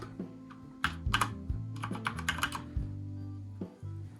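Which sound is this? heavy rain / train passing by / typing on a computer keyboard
typing on a computer keyboard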